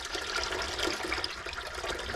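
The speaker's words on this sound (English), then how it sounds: "We are going to put enough of water in here." Tap water pours into a Tefal canner pot, a short, steady gushing splash of filling liquid heard up close with no voices.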